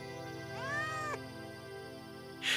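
A cat gives one drawn-out, bending meow, fairly faint over a steady tonal background hum, followed by a short bright noise at the end.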